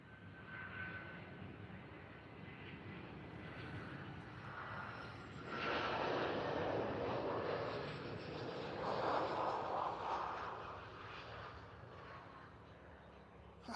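An easyJet airliner landing softly at Liverpool airport gives a moderate, distant engine rush that swells midway into louder surges of roar and hiss before easing off.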